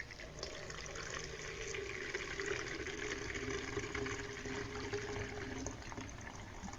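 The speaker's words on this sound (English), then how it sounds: "I'm going to pour it into this little funnel" A mix of water and kerosene pours into a small funnel in a soft, continuous trickle, faint and unbroken throughout.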